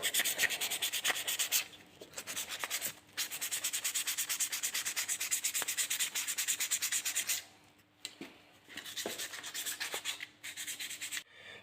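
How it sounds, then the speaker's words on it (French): Brake linings from a Peugeot 205 are deliberately sanded and scratched to roughen them: a continuous, close abrasive rubbing of quick back-and-forth strokes, broken by a short pause and then a few shorter passes. "Donc on va chercher à poncer, à rayer volontairement."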